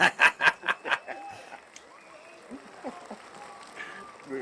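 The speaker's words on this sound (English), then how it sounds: "the crowd got more of an ovation than me" A podcast studio audience gives a guest a brief burst of applause, a few loud rhythmic claps that quickly fade into scattered chuckles and low talk.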